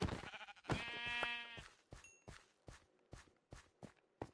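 A Minecraft sheep gives a single drawn-out bleat, followed by a string of soft, evenly spaced footsteps.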